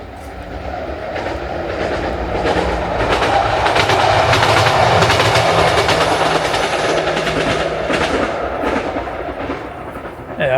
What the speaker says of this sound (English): Can hear a train.